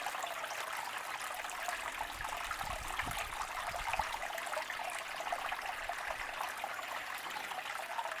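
Water flows steadily over a silicone gold sluice mat with mini nugget traps, a continuous hissing trickle and splash at even, fairly faint level throughout, with a few low gurgles partway through.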